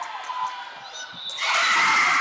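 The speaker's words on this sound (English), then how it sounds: "And the Knight crowd is still fired up." A home crowd at a high school girls' volleyball match in a gym shouts and cheers, the noise building into a loud sustained roar of screaming voices.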